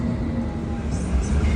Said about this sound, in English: We're on a bendy train.